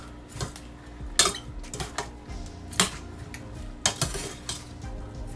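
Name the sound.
stirring salt fish mixture in pot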